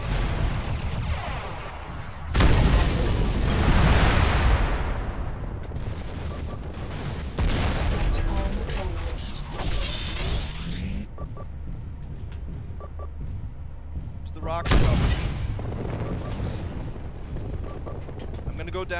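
Missile launches and explosions in the mech combat game MechWarrior Living Legends come as several loud, roaring bursts separated by quieter rumbling stretches, with radio-like tones and game noise between them.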